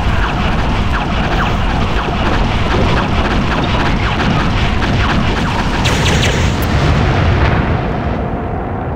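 Dense, continuous combat explosions and booming blasts in the video game Hardwar, loud and overlapping throughout with a roaring, rumbling wash and no talk.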